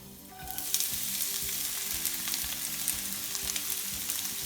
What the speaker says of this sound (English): We're going to test the oil. If it sizzles, it's ready.